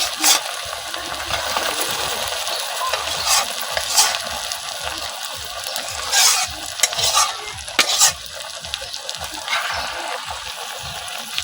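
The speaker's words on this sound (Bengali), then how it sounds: "এই মাংসটা এই কড়াইয়ের মধ্যে দিয়ে নেম" Pre-cooked beef is stirred in a wok of hot spiced oil for a beef pickle, giving a continuous close sizzle and crackle with repeated scraping, clinking stir strokes throughout.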